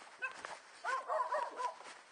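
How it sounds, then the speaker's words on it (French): A dog barks outside a few times in the distance, faint yips and bow-wows in two short bursts over a quiet background. "Désolé pour le chien. Il y a des chiens là dehors."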